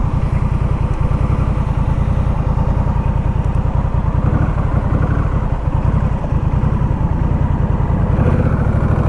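A Honda Rebel 1100 motorcycle engine idles low and steady, a loud, close, even throb running without a break.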